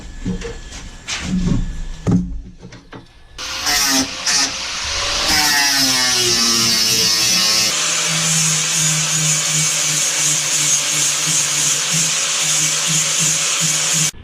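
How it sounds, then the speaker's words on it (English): Custom dagger blade being sharpened on a powered grinder or sander: a steady, loud whirring grind that spins up and holds continuously, after a few scattered clunks and handling noises at the start. "we're going to start sharpening"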